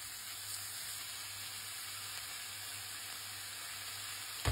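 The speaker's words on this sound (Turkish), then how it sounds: "200 gram kadar kıymayı tencereye alıp kavurmaya başlayalım." Soft, steady sizzling of minced meat frying in a pot, a constant close hiss with no talking.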